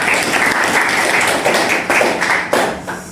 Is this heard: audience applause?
yes